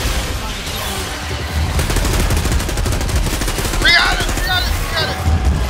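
Sustained automatic gunfire during a boss fight in the video game Outriders, rapid rattling bursts that swell and persist, with game effects and a voice talking over it.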